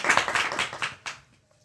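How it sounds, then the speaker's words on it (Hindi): A short burst of audience clapping at a gathering, loud at first, then tapering off over about a second with a brief final flurry before fading to near silence. "ठीक है, बहुत अच्छा, ताली बजाएंगे एक बार।"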